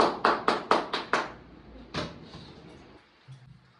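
A burst of six loud, sharp hand claps in quick, even rhythm, followed by a single louder clap a moment later, during a lively party game, with faint background noise trailing off afterward.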